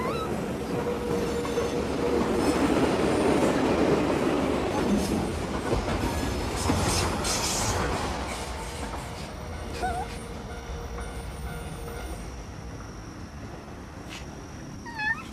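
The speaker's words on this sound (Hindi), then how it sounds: "गुजरती ट्रेनों की आवाज" Trains pass through a city, a long rolling rumble with clattering wheels and metallic squeals that swells and then slowly fades, leaving faint distant rail noise.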